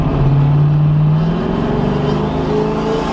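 A 1000hp turbocharged Chevrolet Camaro engine idling and revving up, a loud, steady close rumble with a rising tone and no voices.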